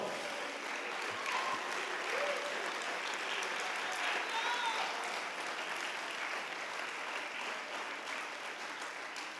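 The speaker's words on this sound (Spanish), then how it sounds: "Dale un aplauso al Señor Jesucristo." A church congregation applauds steadily throughout, a broad continuous wash of clapping at moderate distance, with faint voices and a few shouts mixed into the crowd noise during a Spanish-language service.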